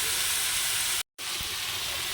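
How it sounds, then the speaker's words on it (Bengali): Unsalted meat, already mixed with ground cumin, frying in a pan, a steady hissing sizzle with a brief dropout midway, heard alone without talk. "এটা একটু নুন ছাড়াই আগে ফ্রাই করে নিই"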